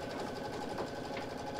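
An embroidery machine stitching a quilt block for a reverse appliqué mini quilt, a steady, fast, close mechanical whir with a regular needle rhythm and no speech.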